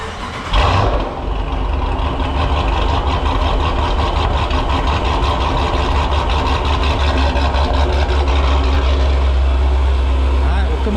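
A car fitted with a Fore Stage 2 dual fuel pump and ID 1050x injectors cranks and fires about half a second in. It then settles into a loud, steady, close idle for the rest of the clip.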